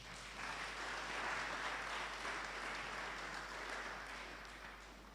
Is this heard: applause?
yes